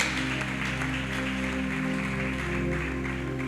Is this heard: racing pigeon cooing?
no